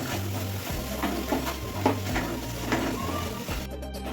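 Bombay duck fish fries and sizzles in oily spice paste in a pan, a soft, steady hiss broken by occasional stirring scrapes. The cooking is quiet and continuous, with a low hum underneath.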